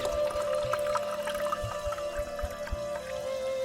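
Tassay mineral water pouring steadily into a glass, a continuous bright trickle with a faint ringing tone running underneath throughout.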